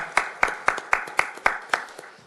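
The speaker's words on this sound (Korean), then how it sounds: "하나님께 감사와 영광의 박수를 올려드리겠습니다" A church congregation at a healing service claps together in a steady, even rhythm, about four claps per second, crisp and fairly quiet with no talk.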